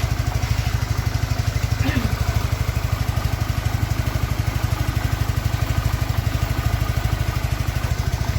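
Suzuki Nex motorcycle engine idling after a rebuild for white smoke and power loss, a close, smooth and even putter with a fast regular pulse, steady throughout.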